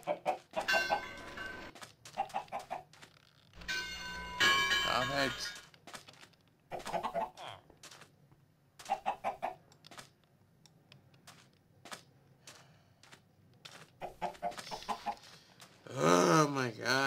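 Chicken clucks from Minecraft with the Crazy Craft modpack, short bursts scattered through the clip alongside someone talking loudly in between.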